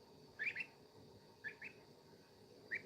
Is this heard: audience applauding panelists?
no